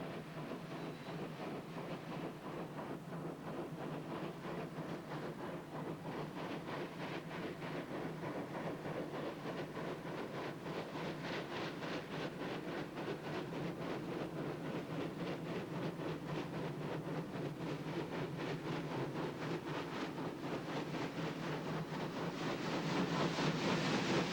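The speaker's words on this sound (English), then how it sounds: "it was decided to reverse the train back to Pine Boss" A steam train reversing through a forest above Pine Boss, its carriages rolling with a steady rhythmic clatter of wheels over rail joints, fairly distant at first and growing louder toward the end, no voices.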